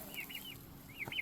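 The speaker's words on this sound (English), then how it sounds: "Right now we currently have 8 blue slate heritage turkeys." Young blue slate heritage turkeys in a baby coop give a few short, high chirping peeps in two quick bursts, close by with no talking.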